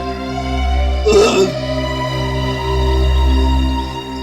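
A single short, guttural burp bursts out over a steady low hum, loud and close, lasting about half a second.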